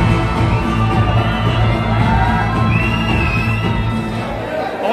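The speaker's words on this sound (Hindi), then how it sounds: "भीड़ देखो आप एक बार, माहौल देखो, नीचे से लेकर ऊपर तक सब सीट बुक है" Dense chatter of a crowd fills a packed cinema hall during an interval of Bachchan Pandey, a continuous murmur of many voices with occasional distant whoops, loud and close throughout.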